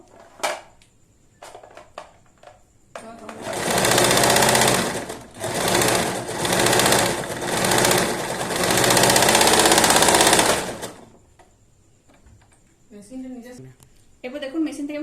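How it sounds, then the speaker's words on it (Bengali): An Usha Janome Allure DLX sewing machine stitches cloth in several loud, close whirring runs with brief pauses between them, with someone talking softly before and after. "এরপর আস্তে আস্তে ধরে ধরে সেলাই দিতে থাকবো"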